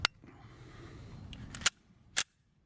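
Shots from a Sig Sauer P320 Compact .40 S&W pistol at an outdoor range, three sharp cracks spaced unevenly over a couple of seconds, moderately loud with quiet background between them.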